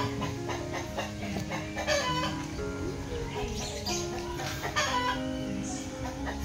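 Broiler chickens clucking steadily in a noisy setting, with repeated short clucks and possible crowing mixed into a constant background din.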